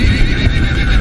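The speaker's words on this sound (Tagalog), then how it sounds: "Hanggang sa narinig niya ang kabayo." A horse whinnies loudly and close in a creepy tikbalang horror tale, one shrill neigh stretched across about a second with hoof clip-clops and low rumble underneath.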